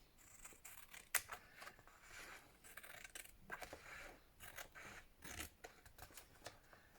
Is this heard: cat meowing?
no